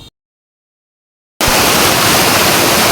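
Water of a waterfall tumbling down a hillside in Meghalaya, heard as a loud, steady broadband rush that starts suddenly after a brief silence and keeps on without a break.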